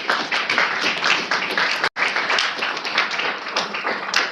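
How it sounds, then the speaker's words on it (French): Sustained applause from a gathered crowd at a funeral in Frankfurt, many hands clapping densely and steadily, briefly broken by a short cut before continuing. "Acclamons pour vous."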